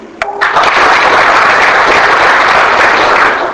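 An audience at a youth communication-skills session at Ramakrishna Math in Hyderabad breaks into applause. A dense wash of clapping starts abruptly and holds loud and steady for about three seconds, then tapers slightly at the end.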